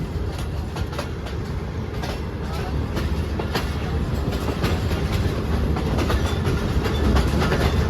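The Allama Iqbal Express passenger train, led by locomotive Z226-410, rolls through Narang Mandi station with a steady, loud rumble and rhythmic clickety-clack of wheels over rail joints, continuous throughout.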